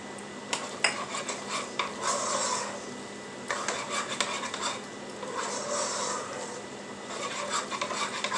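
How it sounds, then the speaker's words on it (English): Spoon stirring and scraping in a pot of mac and cheese as milk is added, a steady run of metallic clinks and rasping scrapes with short pauses, close and moderately loud, no talking. "I can't stir with my left hand. A little bit more milk."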